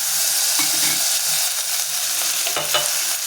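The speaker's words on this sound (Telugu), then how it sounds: "ఉల్లిపాయలు బాగా ఎర్రగా ఆగిపించినాక అల్లం వెల్లుల్లి పేస్ట్ వేసుకుందాం" Ginger garlic paste fries with browned onions in a pan for tomato rice. A loud, steady hiss of sizzling oil carries on throughout, broken by occasional stirring scrapes, and no one speaks.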